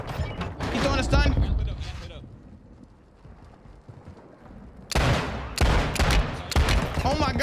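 Gunfire in the video game Warzone 2.0 with a TAQ-56 class setup, dense rapid bursts at the start and again near the end, with a quieter stretch between and excited players talking over the shots.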